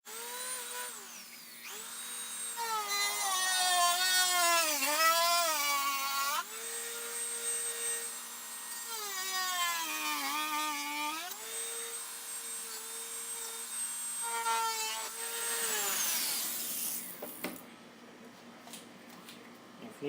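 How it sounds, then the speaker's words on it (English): A Dremel rotary tool cutting excess Kydex plastic from a holster, its high whining motor rising and falling in pitch as it bites into the sheet, close and loud for about seventeen seconds before trailing off. "actually just go in with a Dremel tool"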